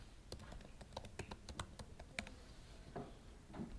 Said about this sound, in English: So we could type in, let's try Marshall Bond.